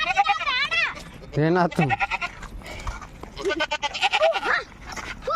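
Sheep bleat repeatedly, loud and close, with wavering cries rising and falling in several bursts, while people talk over and between the calls.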